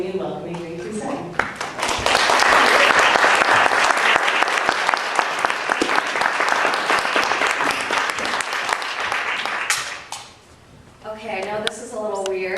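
An audience applauds to welcome the speaker. A steady, loud wave of clapping from a large crowd swells, holds for several seconds, then fades, with speech before and after it.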